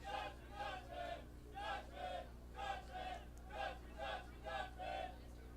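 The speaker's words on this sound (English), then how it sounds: "You hear the Dutchman chants out of the Hope College crowd." Hope College supporters at an NCAA Division III men's soccer match chant rhythmically in repeated bursts roughly every second, a steady crowd chant rising and falling over constant stadium hum.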